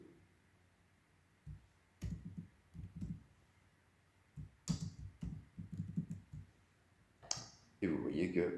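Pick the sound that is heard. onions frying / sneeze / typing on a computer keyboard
typing on a computer keyboard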